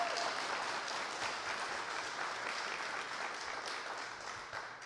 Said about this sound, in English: That's a great thing to applaud